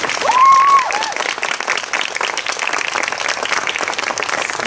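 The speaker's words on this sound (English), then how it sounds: "So let's give them a big round of applause" An audience at a department event applauds the staff with a sustained, even roar of clapping that holds for several seconds, while a brief high tone sounds near the start.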